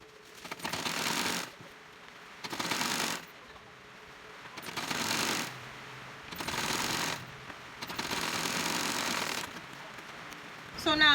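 Bursts of a sewing machine stitching a bustier, five runs of rapid needle chatter each lasting a second or two, separated by quiet pauses, close and fairly soft.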